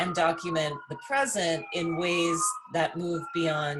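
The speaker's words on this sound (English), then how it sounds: "Sorry for the sirens in the background." Emergency sirens wail in the distance, their rising and falling tones running steadily beneath a person speaking in a lecture.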